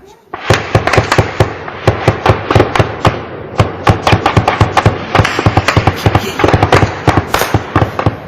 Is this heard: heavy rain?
no